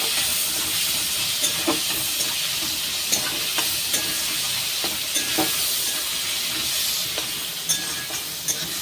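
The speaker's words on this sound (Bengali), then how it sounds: "দিয়ে ভালো করে আবার ভেজে নেব" Chopped tomato and salt fry in a pan with a steady, close sizzle, broken by scattered clicks and scrapes of stirring; no voices.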